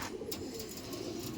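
A male Andhra pigeon, just released, gives a soft, brief coo that sounds faint against low background noise.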